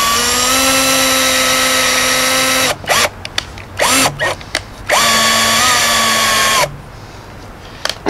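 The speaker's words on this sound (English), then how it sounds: "Just gonna drill a few small holes." A power drill bores small holes in PVC for a homemade deer feeder: two long, steady, high whining runs separated by a cluster of short stop-start bursts, loud and close.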